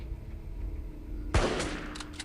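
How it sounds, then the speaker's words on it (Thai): A single gunshot fired in the mobile zombie survival game Resident Evil x LifeAfter: one sharp, loud crack that cuts through quiet ambient game sound, followed by a brief echoing tail. "การยิงหนึ่งนัดทำให้เรียกซอมบี้ออกมาครับต้องระวังให้ดีนะ"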